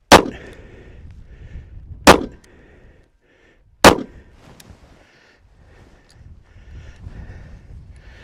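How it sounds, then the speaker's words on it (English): Three sharp, loud pistol shots from a SCCY DVG-1 9mm firing 124 grain rounds at a target seven yards away, spaced roughly two seconds apart with quiet gaps and light outdoor noise between them. "We're going to shoot this 2-inch shoot and see from 7 yards with 124 grain 9mm and the DVG-1."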